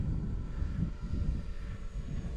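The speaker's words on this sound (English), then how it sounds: "We're flying the drone overhead" A drone flies overhead above the Magruder Corridor in Idaho, giving a steady, fairly loud whirring drone that carries on without a break.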